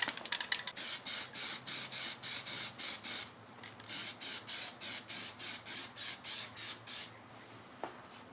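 Plasti Dip being sprayed as a second coat onto BMW E65 wheel rims: a series of about fifteen short, even aerosol bursts in a steady rhythm, close and fairly loud, with a brief pause midway.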